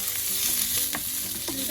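Sliced onions hit hot oil in a pan with cardamom for paneer butter masala, giving a loud steady sizzle with quick stirring scrapes on top, no voices.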